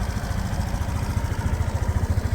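A Suzuki Address 125S fuel-injected scooter engine idles close by, putting along in a steady, rapid low rhythm.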